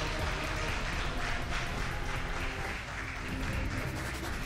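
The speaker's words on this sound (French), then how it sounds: "s'il vous plaît, continuez d'applaudir." Studio audience on a televised school quiz contest keeps clapping while the teams arrive, a thick unbroken wall of applause at constant loudness with a slight dip midway.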